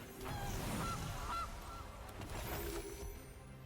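A Gilded Goose card in MTG Arena gives a few short, bright honks over a dense, busy game soundtrack, loud and close throughout.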